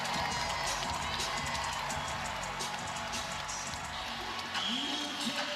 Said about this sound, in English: this crowd appreciating the effort they saw tonight out of the Dallas Wings